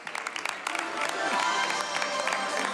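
A small audience at a juvenile prison in Naples gives polite applause: scattered individual claps quickly merge into a steady, moderately close patter that holds to the end.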